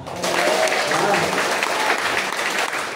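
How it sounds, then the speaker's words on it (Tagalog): A church congregation claps together during a worship service, dense and steady hand clapping at close range with some voices mixed into the crowd. "pumalakpak."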